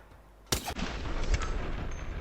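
A single sharp gunshot fires in the video game Hitman 2, then gives way to a sustained, rumbling wash of noise.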